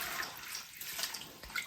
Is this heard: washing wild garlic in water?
yes